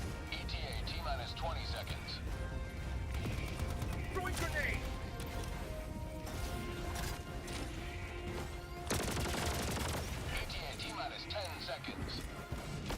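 Video game combat with scattered gunshots and a burst of loud explosive noise from grenades, mixed under continuous speech and game sounds.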